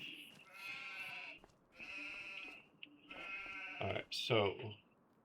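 Sheep in the farming game Farming Simulator 25 bleat in a run of drawn-out, wavering calls, several overlapping, loud and close, ending with sharper, higher cries.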